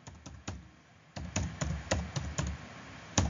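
Computer keyboard keys tapped out one by one while an Aadhaar card number is entered into a ration card application form, about ten sharp, fairly close clicks in an uneven rhythm with short pauses, no voices.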